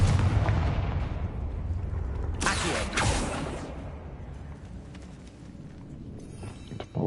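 A Confringo spell bursts in Hogwarts Legacy: a loud blast near the start, then a bright crackling burst around the middle that trails off, with faint rumbling ambience and a final sharp hit at the end.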